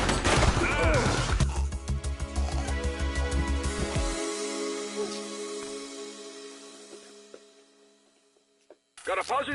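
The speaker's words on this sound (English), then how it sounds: "He's shooting!" Gunfire in the police video game The Precinct, a burst of rapid shots and crashes up front that fades into a long echoing tail, with voices shouting near the start and returning at the end.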